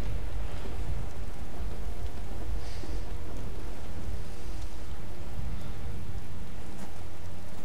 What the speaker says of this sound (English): As you can see, it's a horrible day today. It's rainy